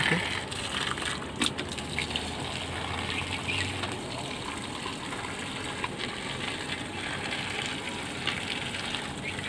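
Water gushes and splashes steadily into a plant pot, a soft continuous pour heard fairly close.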